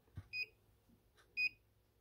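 A home security receiver gives two short, clear electronic beeps about a second apart, with a soft click before the first, in a quiet room; no voices.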